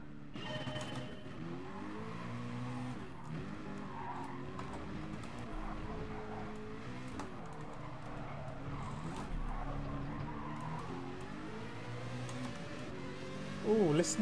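Race car engine in the GT Sport video game, an expensive car costing a million credits on a daily-race circuit, droning steadily with tire squeals and revving throughout, with a voice talking over it.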